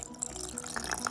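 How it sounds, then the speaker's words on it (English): Tap water running into a rock tumbler barrel that already holds beads, a steady close stream with faint drips and splashes throughout, no voices. "I'm gonna fill it with water, then put the grit in there."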